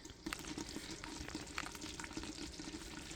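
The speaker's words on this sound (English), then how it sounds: "It's still splashing, so I'm trying to be careful." Thick ogbono soup bubbles and spits in a pot on the stove, a steady busy crackle of small pops and splashes heard close up with no talking.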